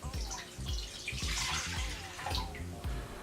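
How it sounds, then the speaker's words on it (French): Two cups of water are poured into a large bowl for homemade bread dough, making a close, gurgling splash with a few bubbly pulses over about three seconds and no talking. "Fait qu'on va rajouter les 2 tasses d'eau"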